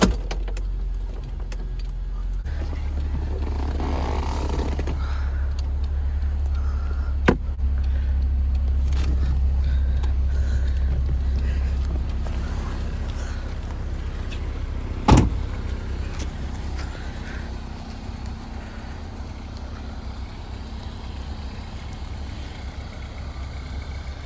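Electric convertible top of a 2007 Honda S2000 lowering, with a steady motor whir for several seconds, a couple of sharp clunks as the top latches and releases, and the idling car underneath.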